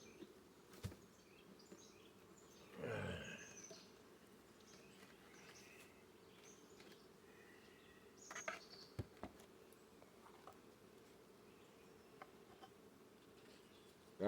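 Honeybees bringing pollen into the hive, a steady low insect hum with individual bees buzzing briefly close by, without speech.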